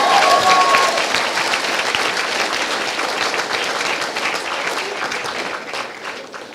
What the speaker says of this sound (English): So how about a round of applause for our head students?